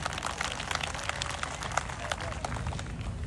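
Applause from a seminar audience, a dense, steady patter of many hands clapping that fills the whole stretch, loud and close with no pauses.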